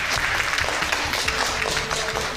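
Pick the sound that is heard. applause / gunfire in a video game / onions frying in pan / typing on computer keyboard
applause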